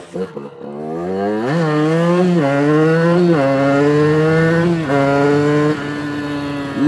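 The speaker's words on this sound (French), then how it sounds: "La moto marche plutôt bien, comme vous le voyez." A Sherco motorcycle engine revs up and down repeatedly, its pitch rising and falling in surges, close and loud for several seconds.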